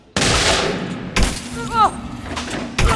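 Rapid bursts of gunfire fill a fight in Elite Dangerous Odyssey, loud and close, with short gaps between volleys and synthetic tones, while a voice speaks over the shooting.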